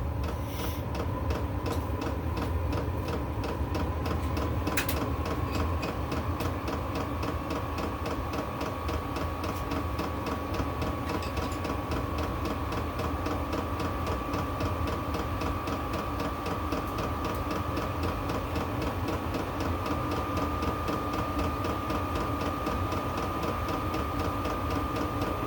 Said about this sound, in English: I hear sounds like an ignition.